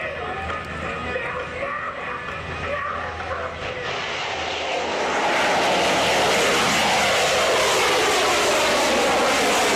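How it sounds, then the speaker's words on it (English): Airplane taking off with rockets attached, a rumbling engine that swells into a loud, sustained roaring blast midway and stays intense to the end. "This plane took off with help of rockets attached to it."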